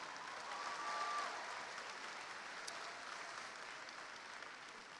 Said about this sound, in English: We could give one more round of applause for Lyric, Alyssa, and the wonderful Ad Astra Choir